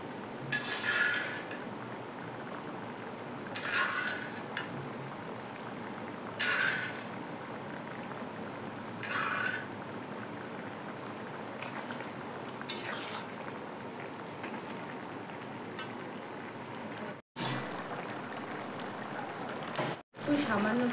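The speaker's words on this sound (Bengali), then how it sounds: "ঝোলটা ফুটে উঠছে, এখন আমি চিংড়ি মাছটা দিয়ে দেবো।" Coconut milk prawn curry simmers with a steady bubbling sizzle, broken by several bursts of louder stirring and scraping, with a couple of brief dropouts.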